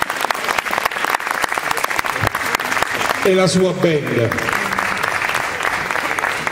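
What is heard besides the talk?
applause for a singer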